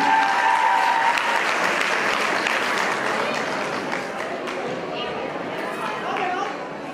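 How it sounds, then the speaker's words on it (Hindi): An audience at an award ceremony for talented students claps loudly at first, then the applause gradually thins and softens, with some chatter mixed into the crowd noise. "आपके लिए भी तालियां।"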